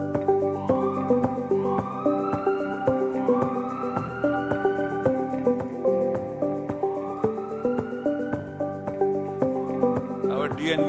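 A hospital ambulance siren sounds in repeated rising wails over a steady rhythmic background pulse, fairly loud and continuous, with no talking.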